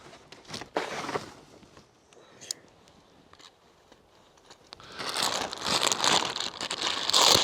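Crinkling plastic bag handled while unboxing a One Tigris Northgaze tent, with soft rustles and crunches early on, then a louder, denser burst of crinkling in the last few seconds, close by with no talk.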